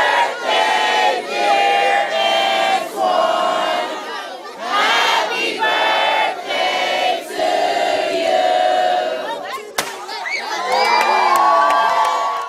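A large outdoor crowd at a Rankin community celebration of life for Antwon Rose's 18th birthday sings happy birthday loudly together in long sustained phrases, then breaks into cheering and whoops at the end.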